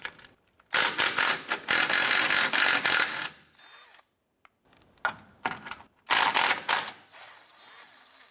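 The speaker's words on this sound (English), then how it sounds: "Using our 14mm deep socket and our impact gun," An impact gun on a 14mm deep socket rattles off transmission mount nuts under a 2004-2008 Acura TL, loud close bursts of hammering whir separated by short pauses.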